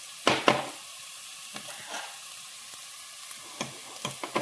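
Onions frying in a pan for biriyani, a soft continuous sizzle broken by sharp scraping stirs, a pair of strokes at the start and a few more scattered later, close and fairly quiet, no voices.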